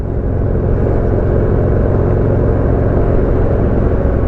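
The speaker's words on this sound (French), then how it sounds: "c'est une Ferrari" A Ferrari sports car passing on a country road in northern France, a steady, loud low engine rumble that holds evenly throughout with no voices.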